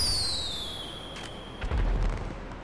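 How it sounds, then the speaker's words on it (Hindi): Firecrackers bursting in the game GTA 5, a rapid cluster of loud cracks and bangs following a descending whistle, with an ongoing low rumble throughout. "ये वो वाले पटाखे हैं जो बंदा शादियों पे बजाता है।"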